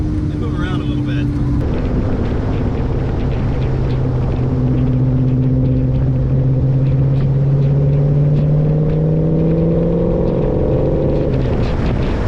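A Hemi-swapped Dodge Challenger cruises along with a steady, loud drone of engine and road rumble, its engine tone rising and falling in long sweeps as it accelerates, heard from inside the car while someone talks.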